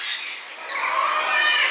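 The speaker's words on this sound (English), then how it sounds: "Literally birds flying everywhere." Birds squawking as they fly around a wildlife park, a steady harsh chatter that fills the whole stretch at moderate loudness with no one talking.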